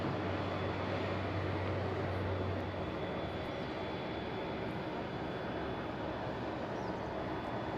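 A fixed-wing aircraft takes off at Madeira Island Airport, its engines producing a steady, broad roar heard from a distance, continuous and even for several seconds with a faint tonal hum underneath.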